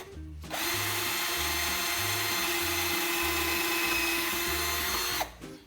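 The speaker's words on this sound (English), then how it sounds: "Now I'm going to just go ahead and drill out that hole." A power drill whirs steadily at close range for several seconds, drilling through a knife handle scale, its motor starting and stopping abruptly, with a rhythmic low thumping beneath.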